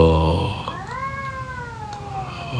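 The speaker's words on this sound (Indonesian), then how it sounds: "Iya, kedengeran ya suara kucingnya." A neighbourhood cat meows once in a long, drawn-out, falling cry, heard fairly close in a quiet indoor setting with faint background noise.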